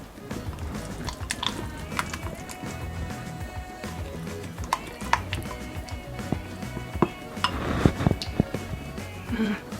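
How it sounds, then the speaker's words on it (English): Creamy cilantro sauce with lime being stirred together in a bowl, giving wet clinks and scraping taps that grow busier and louder toward the end, with no talking. "We're going to mix all this up together."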